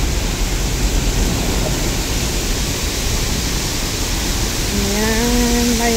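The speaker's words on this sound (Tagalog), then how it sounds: "Ayan, may waterfalls sila." Steady, loud broadband rush of a waterfall at a scenic viewpoint, continuous and unbroken, with a brief tonal whine rising near the end.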